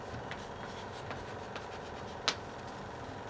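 Chalk or marker on a classroom board during an eighth-grade English lesson, faint intermittent scratching strokes and light taps over a steady room hiss, with one sharper tap near the end.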